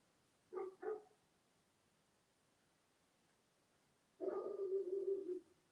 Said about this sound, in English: Oh, we hear the dogs.